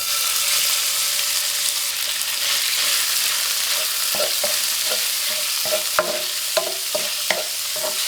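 Diced pork stir-frying in a little hot oil over medium-low heat, a bright steady sizzle with a rapid series of spatula scrapes and clacks against the wok building toward the end, close up and without voices.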